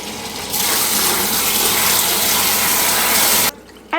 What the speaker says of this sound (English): So set your water for like a medium, and then we can spray it down.